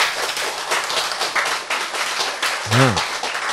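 An audience at a health lecture claps in a dense, continuous patter of many hands, with a brief voice cutting in near the end.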